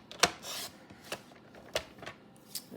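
A paper trimmer blade slides across cardstock in several short rasping strokes with pauses between them, close and fairly quiet.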